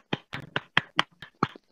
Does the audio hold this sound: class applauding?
yes